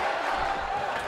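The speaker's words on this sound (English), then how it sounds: "And you hear the crowd here tonight." Crowd noise in the WWE 2K18 wrestling video game, a continuous arena roar of cheering spectators during a match, loud and unbroken.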